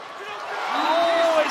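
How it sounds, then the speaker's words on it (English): A volleyball match crowd roars in a large arena, a swelling mass cheer that builds over a second and a half, with a whistle-like tone riding on top and voices mixed in. "The crowd go mental because it's so close"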